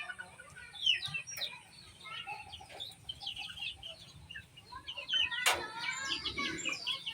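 Small chicks cheep steadily close by while a coop is being built, with high, rapid peeps overlapping throughout, occasional clucks, and a sharp knock midway.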